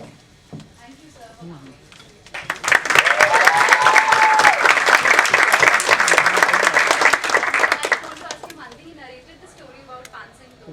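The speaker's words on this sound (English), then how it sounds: "Please give her a huge round of applause also." An audience at a college film-promotion event bursts into loud, dense applause that swells after a few seconds, holds strongly, then fades out, with voices talking before and after.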